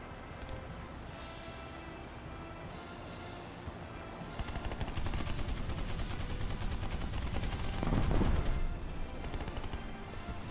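In War Thunder gameplay, an aircraft cannon fires in rapid sustained bursts. The chatter thickens into a dense loud stream in the second half, with a heavier burst swelling near the end and no talk.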